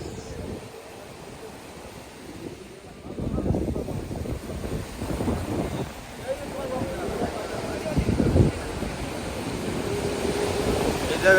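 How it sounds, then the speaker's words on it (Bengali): Sea surf at Kuakata beach roars as a broad, steady rumble, swelling in heavier surges partway through, with wind buffeting the microphone and voices nearby. "সমুদ্রের গর্জন চেক করো গাইস"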